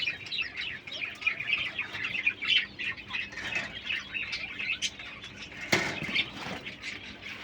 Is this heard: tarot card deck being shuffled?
no